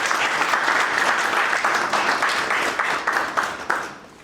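Audience applause at a certification ceremony in Togo honouring Stéphane Toukam, CEO of Career Academic Institute; dense, steady clapping from a crowd that holds level, then thins with a few louder individual claps near the end.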